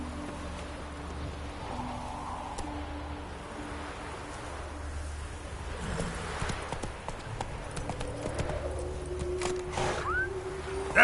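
Roach the horse clip-clops along in Witcher 3, the hooves a steady rhythmic patter under ambient game sounds, growing busier toward the end.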